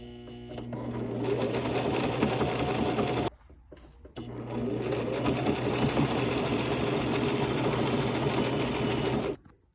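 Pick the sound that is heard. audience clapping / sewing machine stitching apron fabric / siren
sewing machine stitching apron fabric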